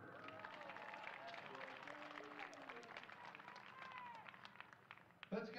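A crowd applauds at a college football championship celebration after a Southwestern University game, steady clapping and cheering over a chatter of voices, with a sudden louder bump near the end.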